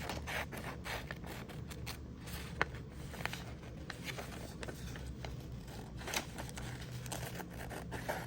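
Scissors cutting paper for a collage portrait, giving a quiet, continuous rustle with scattered small snips and creaks, close up, no talking.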